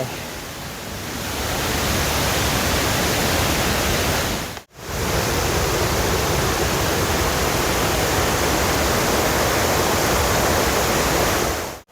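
Mae Klang waterfall at Doi Inthanon, Chiang Mai, pours with a loud, dense, unbroken roar of falling water, close and steady throughout.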